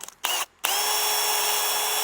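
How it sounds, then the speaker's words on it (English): A power drill with a 1/16 inch bit bores through a Cold Steel Spetsnaz shovel handle, starting with two short bursts, then a steady high whine held for over a second. "I'm going to take a 1/16 of an inch drill bit"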